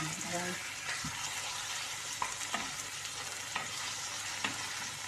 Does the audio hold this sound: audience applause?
no